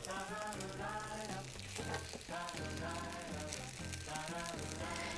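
Meatball pancakes from a 1950 recipe sizzle in a frying pan, a continuous close crackle with faint music running underneath.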